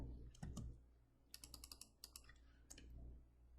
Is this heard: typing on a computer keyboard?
yes